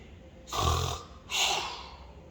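A voice imitates a bear snoring, making two slow, breathy snores in a row, each a rough, drawn-out inhale-like rumble separated by a short pause, close and clear.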